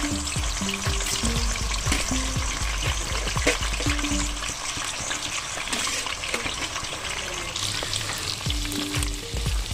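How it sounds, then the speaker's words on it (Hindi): Mutton for Kashmiri rogan josh fries loudly in a pan, a dense close sizzle and spatter with intermittent stirring knocks and scrapes. "अब डालूंगी मैं इसमें मीट। फ्राई करने के लिए मैं फ्राई करूँगी अब।"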